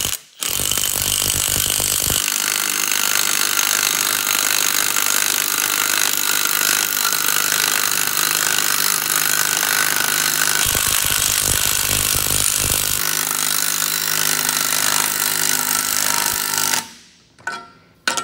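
Small 3/8 inch brushless cobalt cordless power tool working on a truck brake chamber job, loud harsh buzzing hammering in long bursts with brief pauses, up close, no talking.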